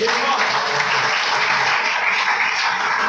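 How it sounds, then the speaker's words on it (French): An audience at a French-language religious sermon claps steadily, a dense sustained wash of applause throughout with no pauses. "Acclamons très fort notre Père"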